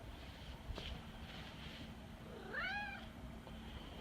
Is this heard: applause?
no